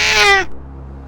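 A cat gives one short, loud, close meow that falls off quickly into a quiet room hum.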